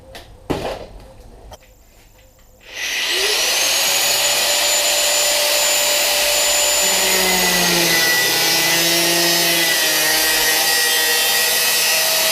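A power tool trims plastic OEM air ducting for an oil cooler on a BMW 330ci Compact drift car, a steady loud whining cut that runs continuously after a few brief handling noises.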